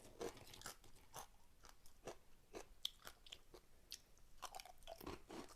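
Repeated bites and loud crunching of chili pork crackles, a series of sharp, close crackling crunches with chewing between them, no talk.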